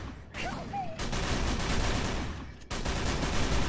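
Rapid sustained gunfire from the horror game Call of Cthulhu: Dark Corners of the Earth rattles loudly and almost without pause, with a brief gap before it resumes.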